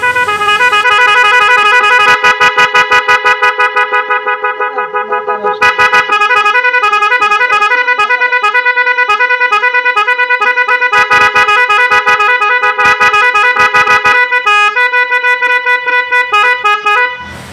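A double horn wired with a relay on a Pulsar motorcycle blares in loud repeated bursts, long sustained honks broken by quick stuttering beeps, close and alone for the whole stretch.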